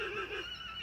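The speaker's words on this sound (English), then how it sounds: "Right now you can hear the horses" A horse neighs on a farm in Castleton, Vermont, a short, bright whinny that carries clearly through the whole brief moment, close and fairly loud with no voices over it.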